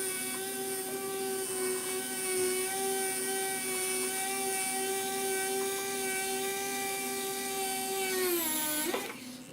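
A powered screwdriver drives screws into a Phoenix Models Sukhoi Su-31 model airplane. Its motor gives a steady, close whine for about nine seconds, then winds down and stops.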